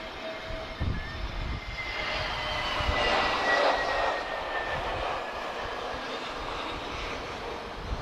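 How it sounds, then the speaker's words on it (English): An Airbus A320neo arriving from Madrid makes a steady whining engine roar that swells a little in the middle and then eases, heard from a distance over a low rumble, with no voices. "So this is an A320neo."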